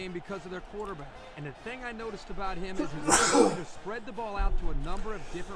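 A sharp sneeze bursts out once, loud and close, cutting through steady talk from nearby voices.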